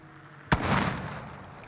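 A single loud, close gunshot crack in the Warzone video game, followed by a rumbling echo that fades over about a second, with no voices.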